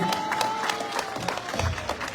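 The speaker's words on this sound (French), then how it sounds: "Applaudissez-vous." A crowd at a Marseille Populaire political meeting applauds with scattered, fairly faint clapping and a murmur of voices, ahead of municipal elections.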